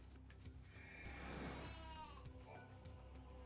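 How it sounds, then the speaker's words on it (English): A sheep in the Final Fantasy XIII-2 video game lets out a single wavering bleat midway, over a low, busy game background. "Chasing sheep."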